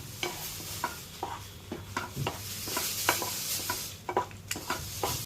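A spoon scrapes and stirs semolina and mashed banana halwa in a pan in quick, irregular strokes, close and clear over a faint sizzle, with no voices.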